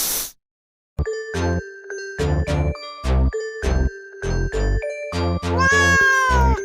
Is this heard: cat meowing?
yes